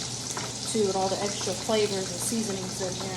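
Steady crackling sizzle of bacon frying in a pan, with a person talking over it close by.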